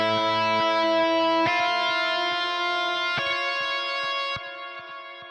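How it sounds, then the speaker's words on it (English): A MIDI guitar through an amp with a lead tone rings out in sustained, distorted notes with a few sharp new attacks, each left to sustain and decay under heavy effects, alone and fairly loud. "but I just threw on an amp with some lead tone"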